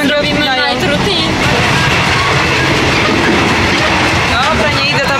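The interior of a moving sleeper train carries a steady loud rumble with rhythmic wheel clatter and faint squeals, and voices talk over it.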